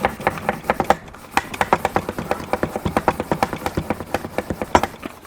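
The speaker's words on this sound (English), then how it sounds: "So we'll hold that lid down and we pump" A portable coffee press is pumped by hand to make cappuccino while traveling, giving a steady rhythm of quick squeaky strokes, about six per second-pair, close and continuous.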